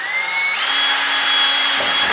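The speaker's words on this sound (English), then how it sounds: "You drill them out." Power drill boring out four small round knockout circles in the inner panel of a Maxim 3000 unit during assembly, a steady close whine with a shift in pitch partway through.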